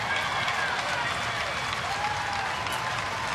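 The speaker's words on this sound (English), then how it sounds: "the young man getting a big round of applause, apparently for a play he made" Ballpark crowd at a baseball game applauding a young player for a play, a steady broad wash of clapping and cheering filling the whole stretch, with faint crowd noise and a voice underneath.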